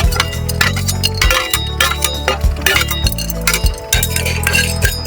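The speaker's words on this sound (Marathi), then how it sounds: "पहिले आपण ह्या डाळ्या भाजून घेऊया" Dry dal lentils are roasted in a pan for a Saoji mutton curry, stirred close up with repeated bright clinking, rattling scrapes over a low steady hum, and no voices.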